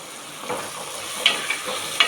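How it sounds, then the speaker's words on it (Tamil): Steady sizzle of aromatics sautéing in hot oil for pepper chicken rasam, with a few light stirring clicks and scrapes against the pan, close and continuous, no voices. "நல்லா எண்ணெயில் வதங்கி வரட்டும்."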